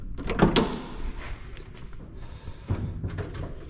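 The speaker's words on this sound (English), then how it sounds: "Also hear how solid this car is by the way the door's shut." A solid Jaguar E-type car door thud lands early, followed by a second softer knock a couple of seconds later, with quiet room noise between.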